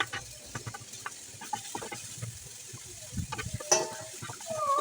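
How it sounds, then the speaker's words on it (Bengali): Chopped onion frying in a pan gives a soft, uneven sizzle with occasional stirring scrapes and clicks, fairly quiet and close, swelling slightly toward the end. "এখন পেঁয়াজ কুচিগুলো কিছুক্ষণ ভাজি করব।"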